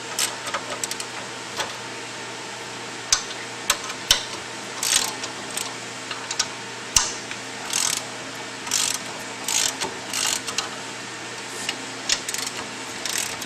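Bolts on a friction clutch spring plate for a driveshaft being loosened, giving scattered metallic clicks and ratcheting taps at irregular intervals over a steady low mechanical hum, fairly close and moderate in level.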